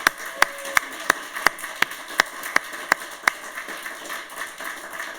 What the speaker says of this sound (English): Let's give them a big, loud round of applause.